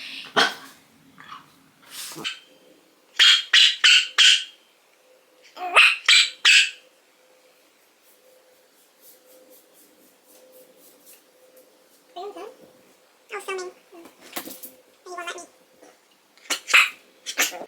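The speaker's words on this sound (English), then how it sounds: "my dog was just not, as you guys saw, would not shut up" A dog barks indoors in short loud clusters of several barks, with quieter grumbles and sounds in between and a few more barks toward the end.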